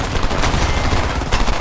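Dense, loud gunfire in the PlayStation 3 shooter Homefront, a continuous rattle of automatic weapons with overlapping bursts and no pauses.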